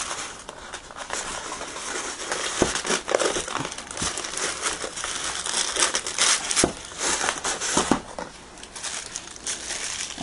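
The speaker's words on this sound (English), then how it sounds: "Tissue paper to one side." Tissue paper crinkles and rustles steadily while a Hornby model locomotive tender is unpacked, with sharp crackling bursts among continuous soft handling noise, close and fairly loud.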